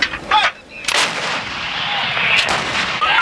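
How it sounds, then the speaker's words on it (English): American artillery fires in Iraq during the 2003 war: sharp, loud booming blasts at a distance, a few separate reports with rolling echoes in between, no talk over them. "As American artillery pounded away"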